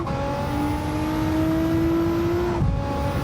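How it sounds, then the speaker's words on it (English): In the Gran Turismo 7 racing game on a Tokyo circuit, a race car engine holds a loud, steady rising whine as it revs through a gear, then drops sharply near the end with a shift. "Listen to that engine."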